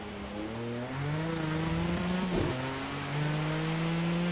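Race car engine in Project Cars 2 at Le Mans, pulling out of the pit lane: a steady loud droning tone that climbs in pitch, dips briefly with a gear change, then rises again.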